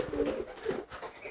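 A fantail pigeon gives a short, close burst of gentle throaty cooing, two or three soft notes with nothing else around it.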